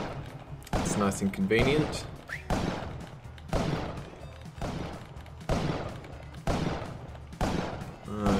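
Shotgun blasts in the cave-exploring video game Spelunky, a run of about seven loud booming shots spaced roughly a second apart, each with a short rumbling tail, while someone talks over the gunfire.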